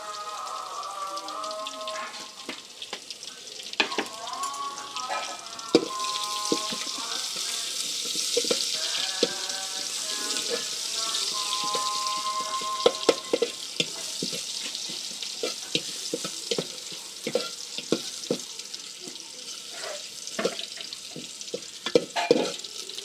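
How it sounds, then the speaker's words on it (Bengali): Bay leaves, onion and garlic frying in oil in a pan for lentils, with a steady sizzle, intermittent clatter and scrapes of a stirring utensil, and a few faint background tones. "2টা তেজপাত দিলাম, পেঁয়াজ দিলাম, রসুন ঠিকা করে রসুন দিলাম"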